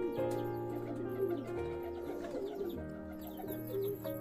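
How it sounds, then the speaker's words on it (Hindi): Indian builder pigeons cooing, kept as a flock, giving layered low repeated coos with some chirps and faint wing sounds, steady and fairly close throughout. "इन कबूतर की गर्दन गोल और मोटी होती है, और दोस्तों ये कबूतर टुकड़ियों में उड़ना पसंद करते हैं।"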